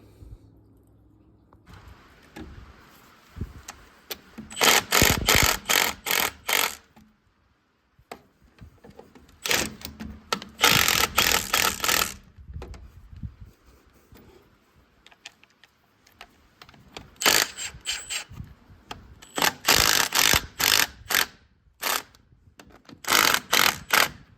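Bursts of rapid clicking from a ratchet loosening bolts on a Case 310 diesel engine to reach bent push rods, coming in several close, loud runs with quiet pauses between them.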